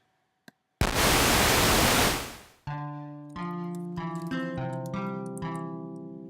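A physical modeling synthesizer blasts a loud burst of bowed noise for about two seconds, fading out, then plays a series of sustained, layered guitar-like resonant tones.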